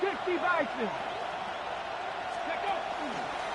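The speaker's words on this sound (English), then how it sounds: "This crowd, they're trying to force a false start." Steady stadium crowd roar in an EA Sports football video game during a 3rd-and-inches play, loud and constant throughout, with a commentator's voice layered over it.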